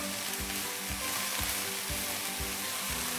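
Finely chopped cabbage and mixed vegetables stir-fried for Singaporean rice sizzle loudly and steadily in a hot pan, with rhythmic stirring strokes about every half second.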